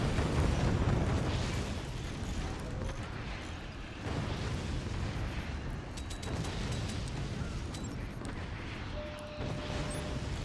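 Weapons firing and shells exploding in the Forts RTS game, a dense, continuous roar of booms and blasts layered over each other for the whole stretch, loud and unbroken.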